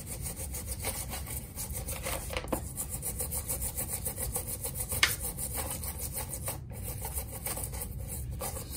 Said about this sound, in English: Start scrubbing.